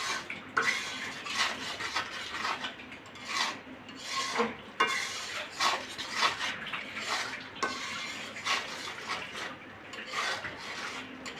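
Spice paste with salt and turmeric stirred in oil in a cooking pan, giving repeated scraping and rasping strokes of a utensil against the pan in an uneven rhythm, close and fairly clear.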